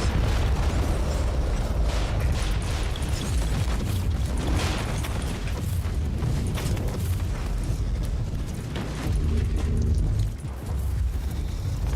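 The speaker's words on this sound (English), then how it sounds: "The Marauder bombers are launching a second wave of bombardments." Bombing runs from Marauder bombers in Warhammer 40,000: Inquisitor Martyr rumble as a dense, continuous wash of booming explosions and bursts, loud and sustained throughout with heavy low-end roar.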